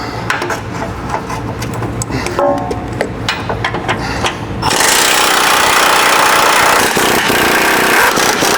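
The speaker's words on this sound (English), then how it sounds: "So 18mm socket, use your impact. Remove those nuts." Cordless impact wrench with an 18mm socket loosening the mounting nuts on a Jeep JK Wrangler front bumper: loud, close, steady rattling hammering that kicks in midway and continues to the end, with clanking before it.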